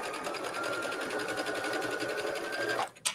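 A sewing machine stitching through stretched elastic, a rapid even mechanical chatter running close and steady for about three seconds before stopping abruptly, followed by a brief small clack.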